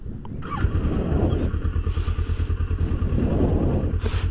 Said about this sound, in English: So, let's see how this bike sounds.